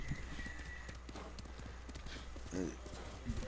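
Horse hooves clip-clop in rapid galloping rhythm from the video game Ghost of Tsushima, the mount braking and turning before surging back into a gallop, with occasional whinny-like tones and someone talking over the action throughout.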